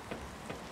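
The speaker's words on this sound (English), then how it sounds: "Oh look, it's raining again." Steady rain falling in the video game The Planet Crafter, a soft continuous hiss with a couple of slightly louder patters over its short span.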